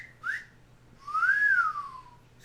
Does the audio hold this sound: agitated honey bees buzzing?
no